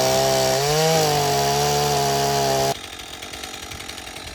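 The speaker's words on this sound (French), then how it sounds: "Vas-y, tronçonneuse." A chainsaw cuts wood: a loud, steady engine whine with a small pitch shift, close by and alone, then cuts off abruptly near the end, leaving faint background rustle.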